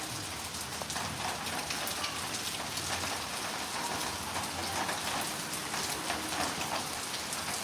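Heavy rain pours steadily in Kinassery, Palakkad, a dense, continuous hiss of drops striking surfaces, loud and close with no voices over it.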